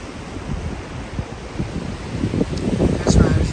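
Waves surge and wash in as the tide rises along a breezy, chilly shoreline at Cape Chignecto in Nova Scotia, a steady close roar of surf that swells louder toward the end, with some wind buffeting the microphone.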